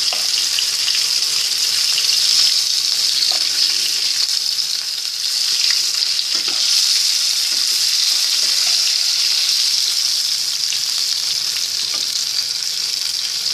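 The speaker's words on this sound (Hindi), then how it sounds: "ये आप देख सकते हैं एक साइड से बहुत अच्छे से फ्राई हो गए हैं। अब इनकी साइड चेंज करेंगे।" Beef koftas fry in hot oil in a home kitchen, a loud, steady bright sizzle that runs throughout. Faint scrapes and knocks mark the pieces being turned over, and no one speaks.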